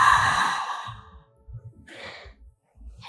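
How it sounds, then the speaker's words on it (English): A long audible exhale during a back and core exercise, strongest at the start and fading, followed by a couple of softer breaths close to the microphone. "and breathe out"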